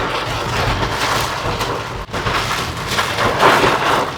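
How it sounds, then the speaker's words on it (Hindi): Heavy rain drums steadily on a car during a hill drive toward Chail, a loud continuous wash with no talk. "तो खतरनाक टाइप की बारिश हो रही है।"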